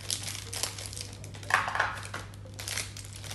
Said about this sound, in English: So I have scissors, so I can open this.